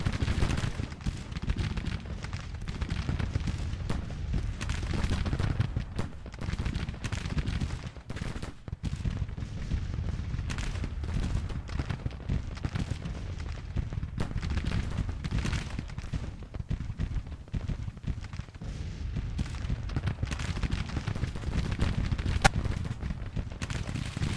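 Dense, continuous Civil War battle gunfire from Grand Tactician: The Civil War, with overlapping cannon and musket reports forming a steady rumbling roar that never lets up and no voices.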